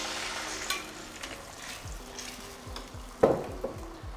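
A beaten egg mixture sizzles in a hot frying pan while a utensil stirs and scrapes, with an occasional clink of cookware, steady and close.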